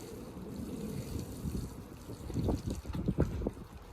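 Lukewarm water pours from a watering can onto seeded soil in a greenhouse, a soft, faint splashing and trickling that grows a little denser toward the end.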